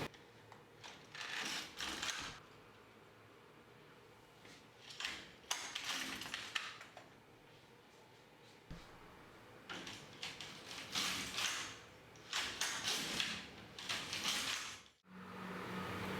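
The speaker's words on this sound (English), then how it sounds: "So I'm just going to knit the stockinette stitches back and forth." An LK150 knitting machine's carriage slides back and forth across the needle bed, knitting stockinette stitches for a ruffled-edge neck warmer; repeated swishing, clattering passes rise and fall in bursts with short pauses between, close and moderately quiet, no talking.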